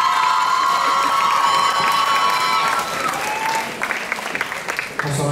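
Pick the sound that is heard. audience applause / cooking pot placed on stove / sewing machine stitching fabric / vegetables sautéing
audience applause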